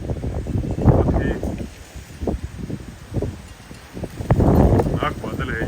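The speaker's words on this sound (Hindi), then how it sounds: "जिस हिसाब से हवा चल रही है, विंड चिल है" Strong gusty wind ahead of a thunderstorm buffets the microphone in uneven rushes, loud surges around the start and near the end, with someone speaking over it.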